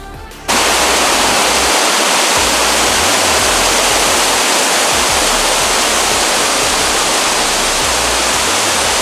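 A waterfall beside the Grossglockner High Alpine Road roars as a loud, dense, unbroken rush of falling water, starting abruptly and staying steady and close, with no talk.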